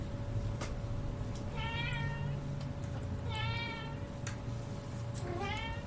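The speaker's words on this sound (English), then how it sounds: "Oh, it's not me you're meowing at." A house cat meows three or four times, each call short and rising, heard close by over a steady background hum during a live stream.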